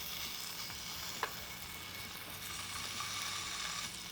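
Sausage and egg fry in a pan with a soft, continuous sizzle, fairly faint and steady, with one small tap partway through and no talking.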